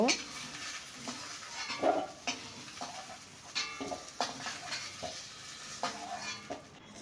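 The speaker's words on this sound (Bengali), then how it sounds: "2-3 মিনিট নেড়ে চেড়ে ভেজে নিয়ে তুলে নেব" Chicken pieces stir-fried with a little oil in a kadai, a spatula scraping and turning them at irregular intervals over a soft, steady sizzle, close and clear.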